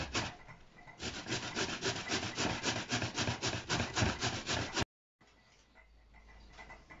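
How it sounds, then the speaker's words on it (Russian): 300 grams of potatoes rubbed on a fine grater for potato pancakes: close, steady back-and-forth rasping strokes in quick rhythm, then a brief silence and a fainter scraping. "вот на такой мелкой терке, натираем картофель"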